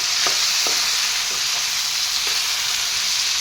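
Ground spices such as coriander and chili powder sizzle steadily in a karahi for a chicken curry, with a spoon scraping and stirring in a few soft, intermittent strokes. The sound is close and continuous, and no one speaks.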